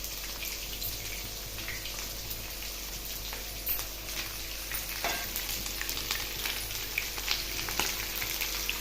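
Tempering seeds, onions and dried chillies frying in hot oil for gongura dal give a steady, close crackling sizzle with scattered sharper pops throughout.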